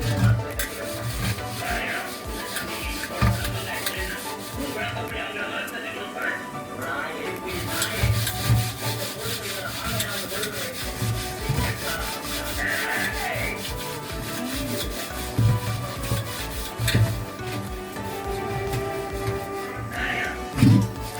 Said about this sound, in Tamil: அந்த லெமனை வச்சு தொட்டு நல்லா தேய்ச்சி கழுவி வரணும்.